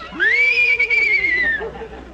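A voice imitates a horse whinny: a single long, high, wavering neigh that holds steady, then trails off downward near the end, in an old comedy radio routine.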